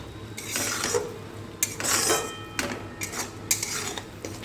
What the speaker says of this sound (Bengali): খুব ভালো করে নাড়াচাড়া করে নিচ্ছি